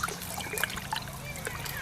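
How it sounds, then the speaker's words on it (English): A root nodule and root hair solution poured into water and stirred, giving soft, faint trickling, splashing and sloshing liquid sounds, close by and without speech. "We pour it in this water, and then we stir it."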